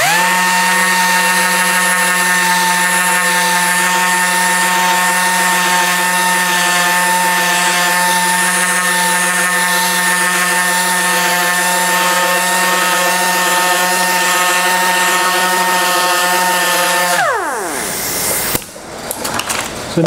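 A dual action sander runs steadily for about seventeen seconds while smoothing a planished weld, its loud whirring drone holding a constant pitch before spinning down and stopping near the end.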